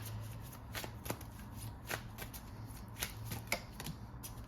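Moonology oracle cards are shuffled by hand, with soft, close riffling and a scatter of quick card snaps over a quiet room, and no one speaks.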